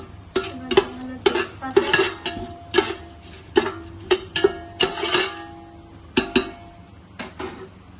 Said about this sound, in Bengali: এবার আবার ঘি দেওয়া হলো, এবার তাতে দেওয়া হচ্ছে গোটা গরম মশলা